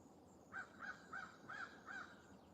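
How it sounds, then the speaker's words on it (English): A crow caws outdoors around sunrise, five distinct caws evenly spaced about every third of a second apart, moderately distant over quiet background ambience. "crow or a hawk or something."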